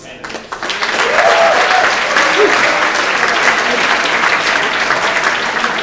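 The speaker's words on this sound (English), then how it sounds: "Let's have a round of applause for all of our judicial candidates" An evening assembly audience breaks into loud, sustained applause for judicial candidates, the clapping swelling within the first second and holding as a dense, even roar.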